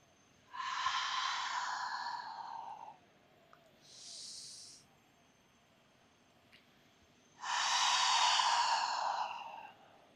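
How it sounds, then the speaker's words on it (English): Slow, deep breathing during a somatic grounding yoga practice: three long, breathy exhalations, the last strongest, with a shorter, softer breath between them, close up in a quiet room. "A few more rounds of breath like this."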